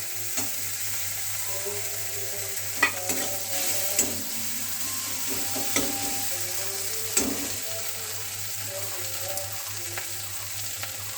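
Chopped ginger frying in a pan with tomatoes cooked down soft, a low steady sizzle close by with occasional utensil scrapes and clinks as the mixture is stirred, no talking.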